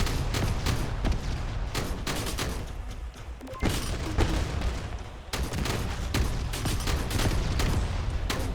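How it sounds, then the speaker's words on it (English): Precision mortar artillery fire in the mech video game Mech Havoc, set in an urban battle: rapid bursts of heavy impacts and booms in dense clusters, a brief lull midway, then more volleys. "All right, precision mortar on that."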